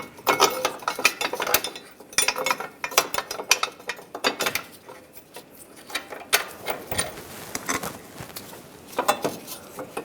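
Ratcheting wrench clicks in quick irregular bursts while lower control arm bolts are snugged down on a 2013-2016 Dodge Dart front suspension, close and fairly loud with brief pauses between runs of clicking.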